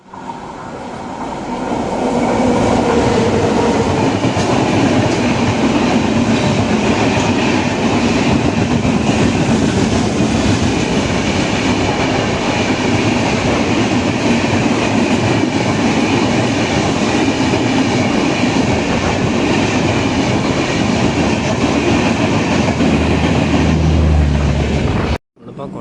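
An LHB-coach express, the 16101 Chennai Egmore–Kollam, rolls out from Kottarakkara station at dawn, giving a loud, steady rumble of wheels on rails that holds unbroken for about 25 seconds.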